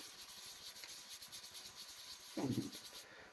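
A tsarist copper coin is rubbed and cleaned by hand, giving quick, faint repetitive scratching strokes at close range, with one brief louder rub toward the end.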